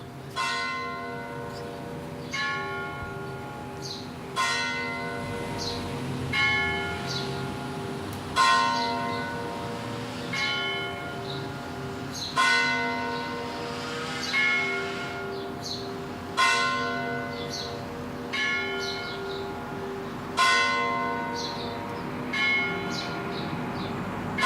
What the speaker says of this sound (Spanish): Toque de campanas de difuntos de Guadalupe.